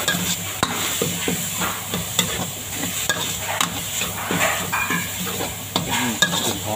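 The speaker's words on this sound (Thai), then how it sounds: "เอากบใส่เลยครับใส่แล้วก็ผัดให้เข้ากันนะ" Frog meat stir-fried with chili, garlic and shallots crackles in a hot pan, with a dense, close sizzle and regular spatula scrapes and knocks throughout and no speech.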